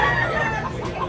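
A White Kelso gamecock, about one year old, clucks briefly at a crowded chicken market in Tabunok, Cebu, its short close calls set against a dense wash of market noise.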